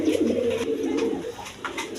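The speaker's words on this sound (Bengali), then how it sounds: "দর্শকবৃন্দ এখানে এক পেয়ার লক্ষা কবুতর আছে, একদম বিগ সাইজের কবুতর" A pair of large Lakkha pigeons cooing up close, soft throaty rolling coos in a couple of bursts, clear and without talk.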